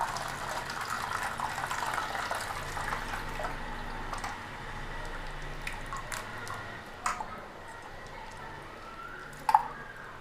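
Tamarind water is added to a spice paste for panipuri, with soft liquid trickles and squishy drips, heavier at first and thinning out, plus a couple of sharp isolated drips near the end.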